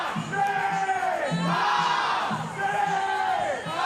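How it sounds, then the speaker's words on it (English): The South Carolina home crowd cheers and whoops at a college softball game against Virginia Tech after a double play. Broad, sustained cheering swells and rises in waves, with a commentator's voice over it. "That woke up the South Carolina crowd a little bit."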